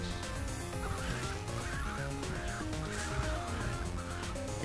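In Call of Duty: Black Ops Dead Ops Arcade, a small bird squawks and gobbles repeatedly over steady, dense game music.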